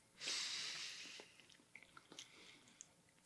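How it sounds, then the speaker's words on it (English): Someone chews a Burger King Impossible Burger, starting with a loud close breath or bite and then continuing with soft, irregular wet chewing and small clicks up close, with no talk. "This didn't feel like chewing beef to me."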